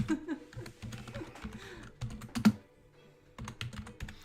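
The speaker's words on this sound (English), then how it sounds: "Why have I just typed game changes?" Someone types on a computer keyboard in quick bursts of close, crisp key clicks, pausing briefly between runs, with faint background sound.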